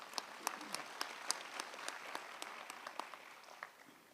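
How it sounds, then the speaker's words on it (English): A crowd claps steadily at a Sol Plaatje University graduation ceremony, a dense patter of many hands that holds at an even level throughout. "I think that deserves a round of applause."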